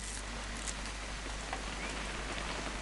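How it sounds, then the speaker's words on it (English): Steady rain hisses down in the video game What Remains of Edith Finch, a dense, even wash of drops on surfaces that runs unbroken and fairly loud, with no voices over it. "It's gonna rain the whole weekend, isn't it?"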